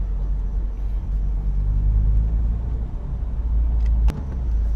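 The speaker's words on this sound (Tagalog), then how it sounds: "Ingay ng alternator ko talaga." A loud, steady low rumble from a running Honda Civic FD engine carries a constant whirring drone from a noisy alternator, with a sharp click near the end.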